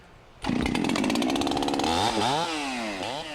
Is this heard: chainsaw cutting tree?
yes